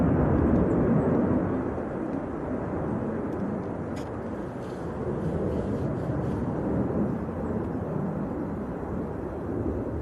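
Airliner departing Manchester Airport in windy, turbulent conditions: a loud, steady broadband engine roar with wind rumble, constant throughout with no voices.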